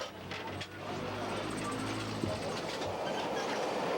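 A Beijing subway train rumbles along the track with a steady low roar and rail clatter, heard from inside the carriage, with a brief bump early on and no talk over it.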